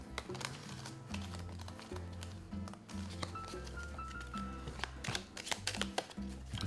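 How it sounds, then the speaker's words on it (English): A deck of park cards for the board game Lands of Amazement is shuffled by hand at close range. Quick riffling and soft card slaps and patters come in uneven bursts. "I'm gonna shuffle the park cards."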